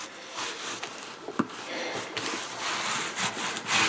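Continuous rubbing of paper pressed down onto the spine of an old book cover, a close, scratchy back-and-forth friction with a few sharper scuffs.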